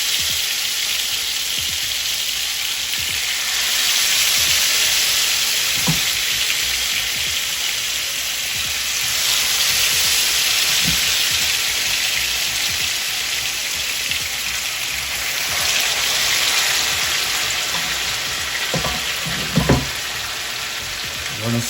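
Salmon searing in a hot skillet gives a steady, loud broadband sizzle running throughout, with occasional soft clicks and brief low sounds from handling.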